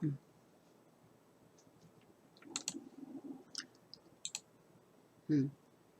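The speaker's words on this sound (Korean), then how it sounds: "자, 여기 한 번만 클릭." A computer mouse gives a few scattered soft clicks while someone opens a web browser from the taskbar. The clicks are faint and close, with light handling noise between them.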